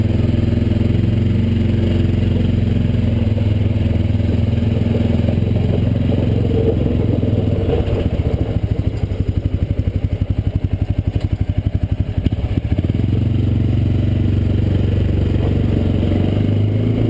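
A new Massimo MSU400 4x4 UTV running through a creek, its engine droning steadily throughout with a stretch of rattling, clattering bumps in the middle as it crosses rough ground.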